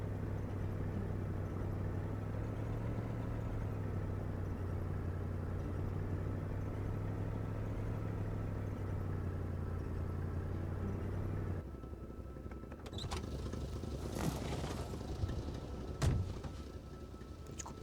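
In the video game Kona, a car engine idles in a low, steady hum for several seconds, then cuts out and gives way to quieter, scattered clicks and thuds.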